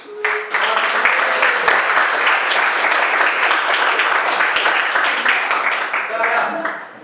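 A classroom of students applauding after group presentations, loud dense clapping from many hands close by, sustained for around six seconds with voices mixed in.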